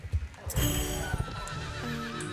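A horse in the Star Stable Online game gives a loud, clear whinny alongside clip-clopping hooves, with no talking over it.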